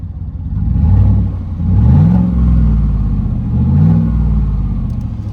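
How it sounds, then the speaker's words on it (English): A deep truck engine rumbles close by and revs up in two or three swelling pulses through a mildly loud aftermarket exhaust, its low note rising and falling, with no talking. "She does have just a little bit of an exhaust on her."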